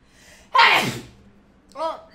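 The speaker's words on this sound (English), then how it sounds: "I think I have to sneeze again" One loud, sharp sneeze bursts out, followed by a brief breathy vocal sound a moment later.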